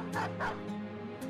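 A dog in the video game Battle Brothers gives two quick yipping barks followed by a fainter whimpering yelp, fairly close and with no talk over it.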